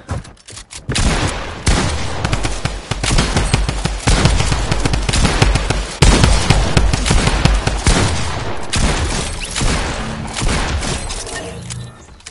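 Sustained video game gunfire in Fortnite, loud and close, with rapid bursts and rattling shots running almost continuously for many seconds amid game effects.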